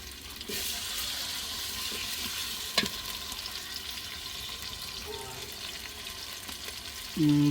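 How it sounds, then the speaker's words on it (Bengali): Onion and garlic paste frying for mutton curry: a continuous low sizzle and stirring scrapes with one sharp clink, ending in a short, louder burst. "এখন 2 মিনিট একটু লাল করে নেব পেঁয়াজ বাটা রসুন বাটা।"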